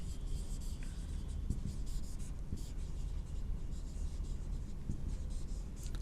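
Chalk or marker scratching across a board during a maths lecture on vectors, a steady continuous rubbing with a few sharper strokes, close and moderately loud, with no talking.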